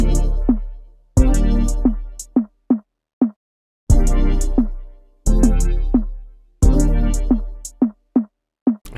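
An FL Studio beat: a programmed hi-hat pattern with rolls, with quick ticking hits over repeating deep bass-heavy beats in a steady loop.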